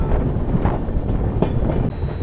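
Humsafar Express train rumbling along the rails near Gudur Junction, a loud continuous roar with rattling carriage noise and wind buffeting the microphone.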